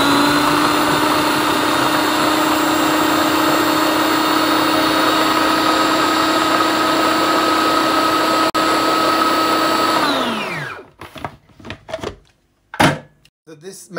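A blender churns frozen wine into slush with a loud, steady whirring drone that cuts out abruptly near the end, followed by a few scattered knocks and clatters.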